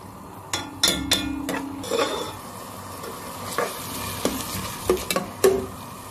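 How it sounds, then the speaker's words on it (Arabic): Ghee melts and heats in a pot with a soft sizzle, while a spoon or utensil clinks and scrapes against the metal in scattered knocks throughout, close by and without speech. "لما السمنه تسيح بس كده وتسخن معانا"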